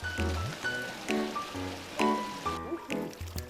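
Cold, clear water of a small stream runs steadily in the open air, a soft continuous trickle and babble under faint scattered noises and brief indistinct voices.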